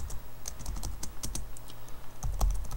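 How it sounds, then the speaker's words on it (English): Keys on a computer keyboard clack in quick, uneven bursts of close, light taps, with no speech over them. "we're going to type in cont equals"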